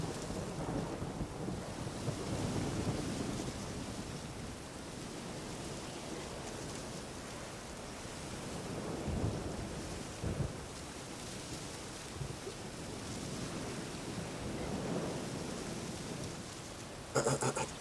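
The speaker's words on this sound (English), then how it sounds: "A storm, damn it." A rainstorm in The Witcher 3 pours steadily for the whole stretch, with low rolling thunder swelling now and then and a sharper crack near the end.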